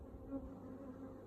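Honey bees hum steadily around an open hive during an April brood box inspection with Langstroth frames, a soft continuous drone with no voices.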